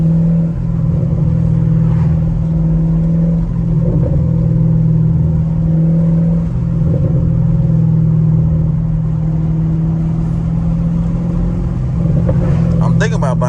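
Straight-piped Chevrolet Camaro SS driving at night, a loud steady low engine drone throughout with slight swells, speech faintly mixed in.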